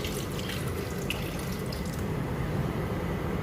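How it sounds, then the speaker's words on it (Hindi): Two glasses of water are poured into a pot of chicken nihari, a steady, close splashing stream that runs without a break throughout. "हमने ये वाले 2 गिलास पानी ऐड कर देने इसमें"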